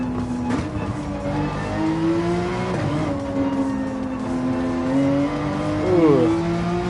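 A race car lapping a track in the game Gran Turismo 7, its engine droning steadily and climbing through the gears with sharp upshift dips, faint tire noise beneath, close and continuous without talk.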